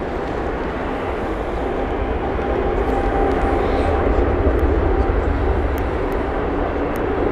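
British Airways airliner bound for Charles de Gaulle at Heathrow Airport, a broad steady jet engine roar holding at constant loudness throughout, with faint talk beneath it.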